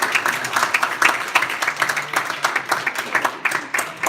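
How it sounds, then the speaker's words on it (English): A room of people at a student senate meeting claps in sustained applause, a dense patter of many hands close by. "Motion to give a big round of applause to Alan Jonathan Calderon for his service in"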